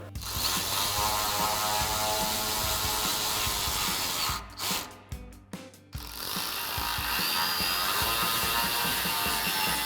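A hand ratchet clicks in a fast, even run while tightening the mounting bolts of a Barricade HD4 tubular front bumper on a 2018-2020 Ford F-150. A brief pause with a few separate clicks breaks the sequence midway, with no talk.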